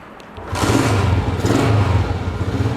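A 125cc motorcycle engine cranks briefly, then catches and revs up loudly and close, the throttle rising twice before settling into a rough running note.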